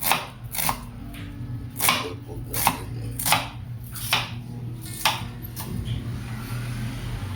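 A knife chops onion on a cutting board in a home kitchen, making a series of sharp, evenly spaced strikes at a steady rhythm over a low hum, with no talking.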